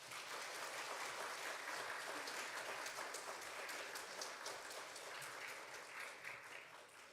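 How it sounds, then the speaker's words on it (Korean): A church congregation applauds to welcome the pastor at an autumn revival service, a steady, even wash of many hands clapping that sounds soft and distant and trails off at the end. "우리 목사님 나오실 때 우리 큰 박수로 한번 환영해 주시면 감사하겠습니다"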